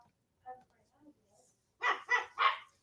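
A dog lets out a few faint whimpers, then three quick, sharp barks close to the microphone in a quiet room.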